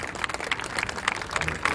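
An audience at a Mylapore festival Ramayana performance breaks into dense, close applause, a busy crackle of many overlapping claps at a steady level.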